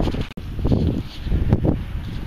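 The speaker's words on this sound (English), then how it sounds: "let's carry on if you can hear me over this wind" Strong wind buffets the microphone on a beach, a steady roar with gusty low rumbles and swells and no talking.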